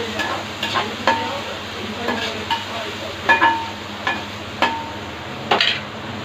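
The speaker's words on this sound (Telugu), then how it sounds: "బాగా మిక్స్ అయ్యేలా చూసుకోవాలి బాగా వేగాలి కూడా పచ్చివాసన లేకుండా బాగా వేసుకోవాలి ఫ్రెండ్స్ టమోటాలు కూడా" Tomatoes and masala frying for a village-style fish curry, a loud close sizzle with repeated scraping and stirring strokes of a spoon against the pan.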